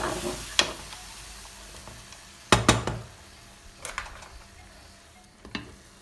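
Grated tomatoes cooking down in a pan, a soft sizzling bed broken by several sharp clatters and stirring knocks of a utensil against the pan.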